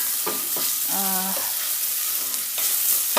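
Gumbo cooks in a pot while being stirred, a soft steady sizzle under a few clunks and scrapes of the spoon and a brief tonal squeak, close and moderately loud.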